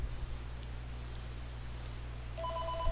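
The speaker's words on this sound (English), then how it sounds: "And there goes the phone again!" A telephone starts ringing only at the very end, its tone entering over a steady low electrical hum that fills the rest of the stretch.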